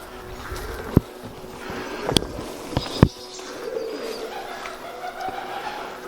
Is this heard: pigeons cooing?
yes